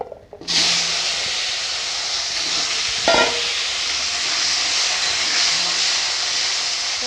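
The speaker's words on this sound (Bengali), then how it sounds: "এবারে ফুলকপিগুলো ভেজে নেব" Cauliflower pieces hit hot oil in a pan and a loud sizzle bursts up. It then settles into a steady frying hiss, with a brief stir partway through.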